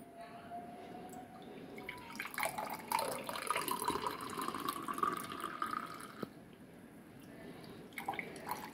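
Second batch of homemade cold tea poured into a glass in a summer kitchen, a steady liquid stream swelling over several seconds and then easing off, with faint trickling at the end.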